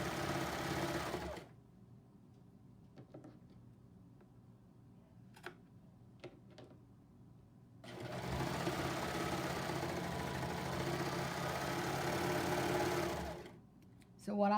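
A sewing machine stitches down a shirt hem in two long, steady runs of rapid mechanical whirring, close and loud, separated by a quieter pause with a few small clicks.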